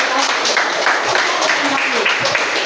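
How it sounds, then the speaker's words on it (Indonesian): A burst of classroom group applause for the last presenting group, steady rapid clapping, with voices mixed in over it. "tepuk tangan untuk kelompok terakhir"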